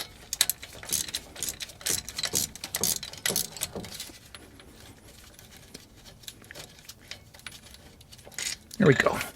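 A deep socket wrench working a stubborn size 19 brake bolt on a GM 1500 truck during a front disc brake overhaul: rapid metallic ratcheting and clinking in bursts, close by, easing off before a final louder rattle.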